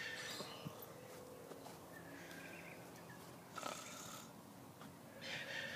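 Snoring comes in faint, drawn-out rasping breaths with irregular gaps, under quiet outdoor background noise, with no talking.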